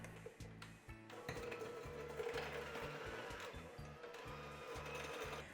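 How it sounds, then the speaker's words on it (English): An electric mixer creams butter and light brown sugar for cinnamon roll cookie dough, its motor whirring steadily and loudly with a rapid pulsing beat throughout, alone with no talk. "Now you're going to want to use an electric mixer"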